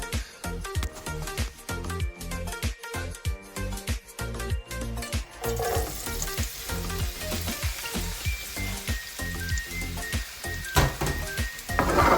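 Sliced bitter gourd frying in hot vegetable oil, a continuous crackling sizzle with dense pops and spits, close and steady throughout with no talking.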